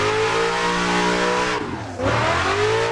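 A BMW E36 drifting in Assetto Corsa, its engine holding a loud, buzzing high-rev drone with tire squeal, the pitch dipping briefly as the throttle eases, then climbing back up.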